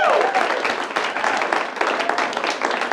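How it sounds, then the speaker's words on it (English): Loud, dense applause and cheering from a stand-up comedy crowd at a New Year's Eve show, sustained across the whole stretch with a faint voice briefly audible at the start. "So big round of applause for yourselves and everybody that you've seen tonight."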